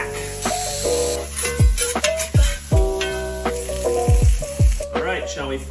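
An A5 Wagyu steak sizzles in a hot pan, a loud close hiss broken by several sharp thumps and scrapes, with music-like tones running underneath.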